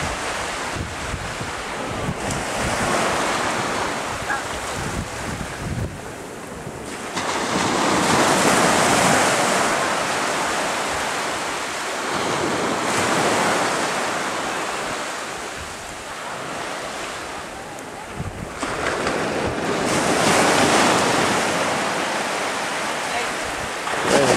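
Cold Baltic Sea waves wash in and out in slow surges, each swell rising and falling over steady wind buffeting the microphone, with a faint voice briefly under the roar.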